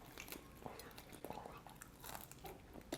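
Crisp crunchy bites and chewing on spicy fried chicken with crispy batter, close to the mic, with a few sharp crackles over a steady low background.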